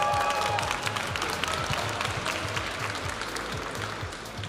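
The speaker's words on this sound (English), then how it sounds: "Let's have one more cheer, everybody." A crowd in a Pokémon tournament venue claps and cheers in steady, dense applause from start to finish, with no break.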